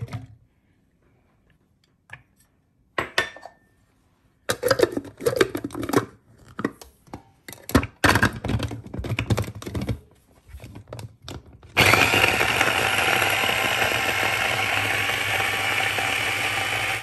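Parsley, garlic and shallots being crushed together: a run of irregular ratcheting clicks and clunks from a hand chopper, then a loud, steady mechanical whirring that continues to the end.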